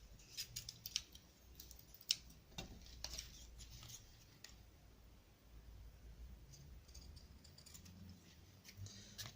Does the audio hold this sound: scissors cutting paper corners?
yes